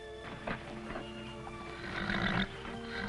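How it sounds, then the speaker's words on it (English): A stallion neighs and whinnies loudly nearby in a 1950s western, with shrill rising cries, snorts and some hoof clatter, and no talking. "I'm riding Fury!"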